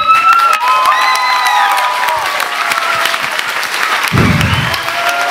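A dance-floor audience in Močenok gives loud, sustained applause mixed with whistles and cheering, the clapping dense and close throughout.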